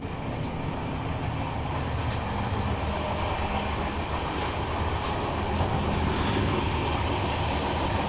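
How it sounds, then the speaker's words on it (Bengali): Kanchanjunga Express on the Silchar–Sealdah run rolls into Dalkhola station, a steady close rumble of wheels and carriages with faint rail clatter and a brief higher squeal near the end, no voices. "ট্রেন আমাদের কিষানগঞ্জ ক্রস করে ডালখোলা এসে ঢুকছে"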